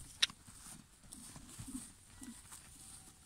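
A horse cantering on a lunge line, faint muffled hoofbeats thudding in an uneven rolling rhythm at a distance, with a sharp click near the start.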